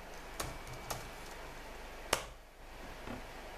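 A few sparse, faint keystrokes on a computer keyboard as a command is typed into an Arch Linux console, with quiet gaps between the clicks.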